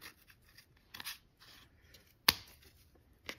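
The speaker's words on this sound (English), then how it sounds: "I'm gonna cut it here," Scissors snip through a bundle of yarn loops for a craft angel ornament, one sharp close cut standing out among faint handling rustles and scrapes.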